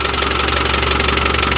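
Land Rover Defender 110 engine idling steadily with a noisy, rattling clutch, a dense continuous mechanical drone with a faint knocking texture, close and loud throughout.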